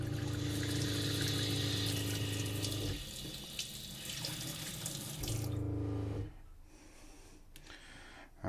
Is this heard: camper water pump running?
yes